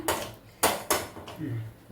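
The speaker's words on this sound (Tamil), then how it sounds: "ஒரு சின்ன கடாய் வச்சுருவோம்" A few sharp metallic clanks of a small kadai pan being set down on a stovetop, with a soft low hum in the background.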